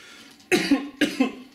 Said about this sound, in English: Had me coughing a lot